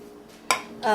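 A multipurpose cooking pot used for boiling noodles and tea clanks against kitchenware in two short metallic knocks, close and fairly loud, with no one speaking.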